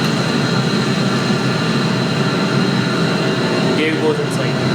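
A flight simulator aircraft roars with a steady, broad engine and wind drone as the landing gear retracts, loud and continuous throughout.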